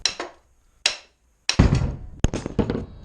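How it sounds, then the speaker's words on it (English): A hammer strikes metal while a suspension bushing is driven out of a 1979-95 full-size Chevy or GMC van. Sharp blows land close by in an irregular rhythm, a few spaced apart and then several in quicker succession. "I could just take the hammer now and go"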